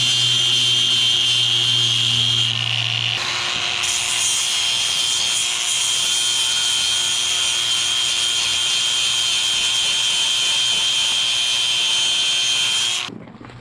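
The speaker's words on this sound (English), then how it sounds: "Let me grind that down a little bit and then we're gonna see if the collar fits over it" An angle grinder wears down metal while a sloppy hole is being repaired, a loud sustained grinding whine with a harsh rasp, its pitch shifting once early on, running about thirteen seconds before cutting off.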